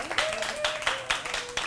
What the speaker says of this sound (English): Let's give Judy a nice round of applause there